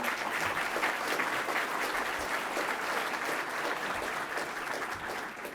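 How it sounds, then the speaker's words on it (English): Audience clapping at a downtown strategic plan forum, a continuous dense round of applause that holds fairly even and eases slightly near the end. "Let's have another round of applause for them."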